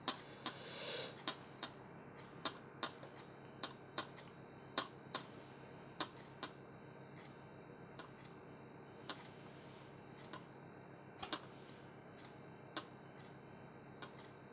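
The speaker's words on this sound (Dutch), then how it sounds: "Ik wil dat je met die spijker die hartslag uitklopt op tafel." A nail taps on a table in a loose heartbeat-like rhythm, sharp clicking strikes spaced irregularly at close range, some in quick pairs, over quiet room background without talk.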